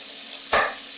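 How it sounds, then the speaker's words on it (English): A single crisp chop of a knife through a carrot onto a cutting board, the blade's heel rocked down, one short isolated cut against a quiet room. "rocking the heel part of the knife up and down"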